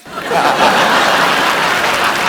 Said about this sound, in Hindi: ठोको ताली, ताली ठोको, ताली, ताली ठोको